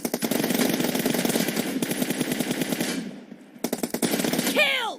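Rapid automatic gunfire from a PUBG Mobile team deathmatch, dense bursts of shots filling the first three seconds, a brief pause, then more close, loud firing with sharp ringing tails.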